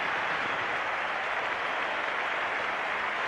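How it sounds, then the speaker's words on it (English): Steady applause from a cricket crowd at the Sydney Cricket Ground during the 1984 Australia vs West Indies fifth Test, greeting Australia's 400, a continuous, even wash of clapping heard at a distance without pause. "Generous round of applause for the 400"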